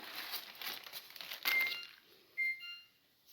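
Thin phyllo pastry sheets for apple strudel crinkle and rustle as they are handled beside a damp cloth, a run of close, dry crackles fading toward the end with a brief sharper crinkle near the close.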